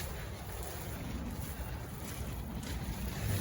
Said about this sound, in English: We have a little breeze, which isn't ideal.